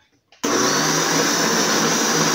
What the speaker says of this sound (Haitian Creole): Quand on va faire même, on va blender.